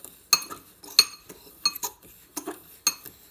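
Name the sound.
mixing sugar and cinnamon in a bowl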